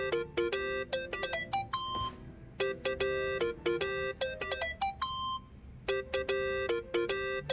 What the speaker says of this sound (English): Think that's your phone,